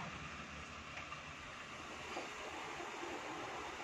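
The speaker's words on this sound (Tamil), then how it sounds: "பாருங்கள் நல்லா கொதிக்குது." A dense, steady rushing roar of water boiling hard in a pot fills the clip, loud and continuous without pauses.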